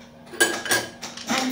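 Cashews and raisins fry in a pan as a spoon stirs them, with a few close metallic scrapes and clinks against the pan over a light sizzle.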